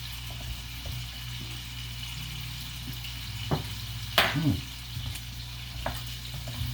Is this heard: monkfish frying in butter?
yes